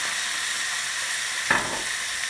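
Mushrooms with a dash of sherry sizzling in a pan while being stirred, a steady close hiss with one brief louder scrape or burst partway through.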